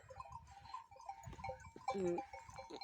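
Sheep bleating at close range on a mountain pasture, several calls overlapping amid rustling and shuffling movement, with a clear, louder bleat near the end.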